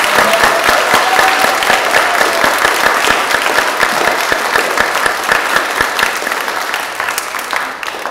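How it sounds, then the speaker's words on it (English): A church congregation gives a full, loud round of applause for the confirmands, sustained clapping that fills the space for several seconds before easing off slightly at the end. "Please join me in a round of applause for these confirmands."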